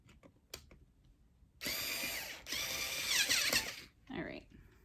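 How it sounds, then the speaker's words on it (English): Power tool driving a screw while assembling a small quad cart, two bursts of whirring with a ratcheting edge separated by a brief pause, preceded and followed by light clicks and handling noises. "you're just going to hold that with a screw, while you tighten the screw"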